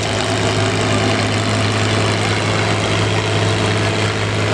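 A powerful pulling tractor idles at a threshing show tractor pull, its heavy engine giving a loud, steady low drone with a strong hum that stays even and close the whole time, with no voices.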